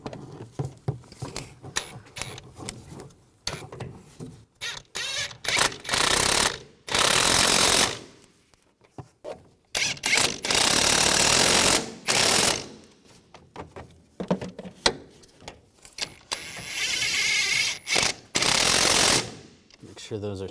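Ratchet tightening the nuts on top of a front shock absorber on a 2015-2020 Cadillac Escalade, heard as repeated bursts of rapid clicking, close and loud, with short pauses between strokes.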